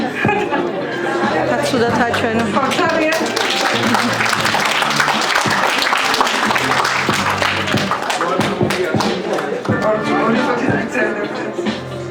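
Enthusiastic applause for schoolchildren at a school in Akhaltsikhe fills the space, dense clapping from a crowd mixed with chatter and a few thumps, loud and sustained throughout.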